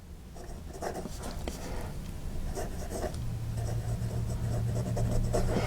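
A Wing Sung fountain pen with a medium soft ground nib scratches across paper in a steady run of faint, close strokes over a low background hum.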